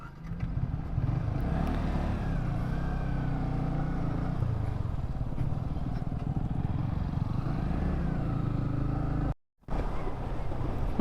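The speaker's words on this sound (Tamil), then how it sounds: "இப்போ வந்து இங்கேருந்து வண்டி எடுத்துகிட்டு கிளம்பிடுவாங்க." A Yamaha R15 V3 motorcycle pulls away and rides off, its engine droning steadily with a couple of rising revs as it shifts, a brief gap near the end, under faint background noise.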